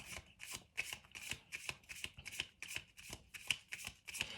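Tarot cards riffle and snap in a quick, regular shuffle, roughly a dozen crisp bursts close up and quiet, with no talking.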